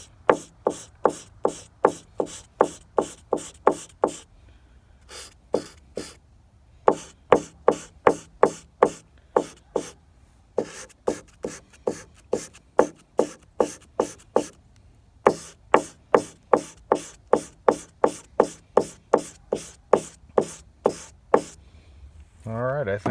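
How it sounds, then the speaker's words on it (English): Gelcoat is damp-sanded by hand in steady, rhythmic back-and-forth rasping strokes, loud and close, with a few short pauses between runs of strokes. "it's not really wet sanding, it's more damp sanding"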